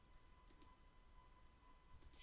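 Quiet, crisp computer mouse clicks come in two small pairs, one early and one at the end, over a faint steady hum while working in OnShape web-based CAD software.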